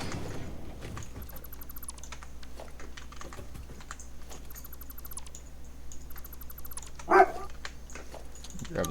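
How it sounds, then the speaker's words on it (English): A small dog barks somewhere in the background of a room during a Satisfactory gaming session. The barks are scattered and faint, with one sharper cluster near the end, under steady computer keyboard typing and a low hum. "He's such a lovely little goober in the background when he's barking at nothing."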